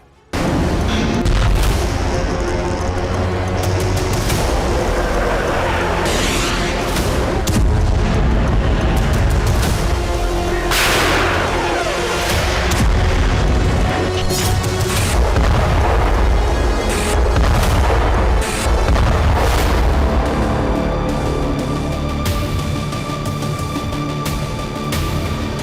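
Missile strikes and heavy explosions in Ukrainian cities amid the Russia-Ukraine war: loud, sustained booming blasts rolling one after another with dense rumbling layered throughout.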